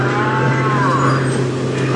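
A loud, sustained low moo from a cow close by, steady and droning, over a constant mechanical hum.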